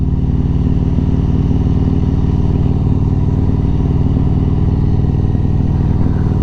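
A Yamaha MT-01 motorcycle rides along the A358 in England's West Country, its loud, close, deep engine thrumming steadily at cruising speed with no talk.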